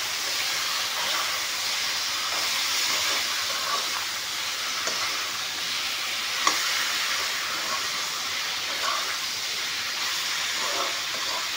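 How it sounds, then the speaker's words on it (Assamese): Meat frying in a pan with oil as it is stirred: a steady, close sizzle and hiss runs throughout, broken by occasional light scrapes and clicks from the spoon. "এতিয়া মাংসখিনি ধুনীয়াকৈ ভালকৈ লাৰি দিম"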